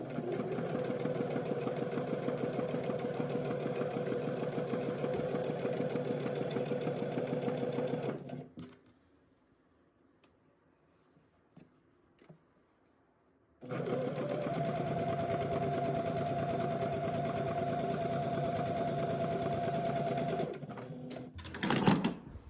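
A sewing machine stitches a revere collar onto a shirt from shoulder toward centre, running in a steady close whir, pausing into near silence for several seconds, then whirring again before a brief clatter at the end.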